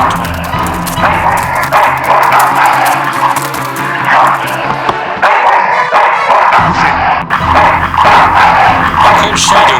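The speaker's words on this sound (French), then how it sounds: "Le chien vient directement." A dog barks and yips repeatedly in the video game Full Throttle Remastered, loud and close amid busy game music and engine effects that run throughout.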